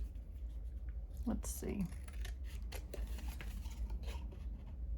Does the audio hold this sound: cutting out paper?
yes